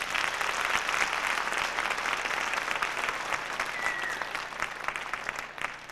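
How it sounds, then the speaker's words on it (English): Audience applause for new National Honor Society members at a high school ceremony, a steady round of clapping from a large crowd that tapers slightly toward the end. "Let's give them another round of applause."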